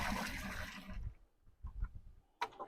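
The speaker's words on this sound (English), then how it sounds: "I'm just going to take this bucket and dip it out" Rainwater is scooped from a bucket and poured into a lawn cart, giving a sloshing splash that fades, then a few softer dribbles and a short final splash, close and quiet.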